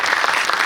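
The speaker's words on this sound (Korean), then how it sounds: "박수 한번 부탁드립니다" Audience applause at a film screening's guest talk, a brief, dense burst of many hands clapping together, loud and close with no voices over it.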